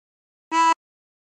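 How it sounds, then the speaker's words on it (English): A single blown note on hole 11 of a 24-hole tremolo harmonica, one short steady reedy tone with a bright stack of overtones, close and clear, alone in silence. "Blow into 11."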